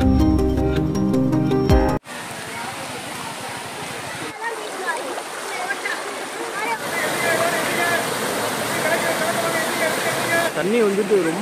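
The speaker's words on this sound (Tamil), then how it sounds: "தண்ணி வந்துட்டு ரொம்ப கம்மியாக விழுது." Ayyanar Falls near Rajapalayam, a waterfall flowing weakly, gives a steady broad rush of falling water in the background, with a crowd of visitors talking over it after a brief burst of music at the start.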